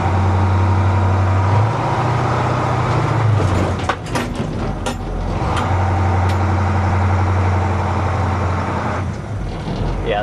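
A Ford L8000 water truck with a dragging brake runs and drives close by, its heavy diesel engine droning steadily for about ten seconds, with clunks and knocks midway and a shift in engine tone as it moves.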